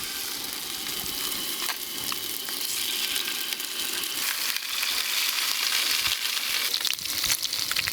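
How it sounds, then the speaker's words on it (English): Fish sizzling steadily in a pan of olive oil during an outdoor catch-and-cook of speared Australian fish, a dense crackling hiss that continues throughout and swells slightly toward the end, with no talking. "Fish two's hit the pan."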